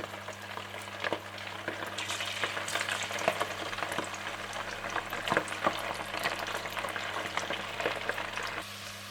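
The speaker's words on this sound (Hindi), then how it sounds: "5 से 10 मिनट चिकन को मैरिनेट करने के बाद आप इसे डीप फ्राई कर लें।" Marinated chicken pieces deep fry in hot oil, making a continuous dense sizzle and crackle at moderate level throughout, with a low steady hum underneath and no talking.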